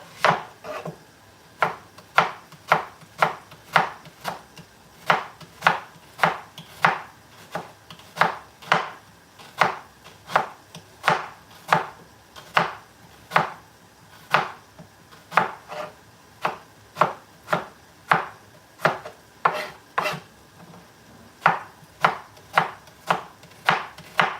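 A sharp knife chops onions on a board in a long, steady run of crisp, evenly spaced strikes, close and clear with no talking.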